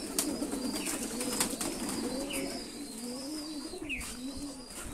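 Pigeons coo softly in repeated low, rolling calls, with a few higher bird chirps mixed in against a quiet outdoor background.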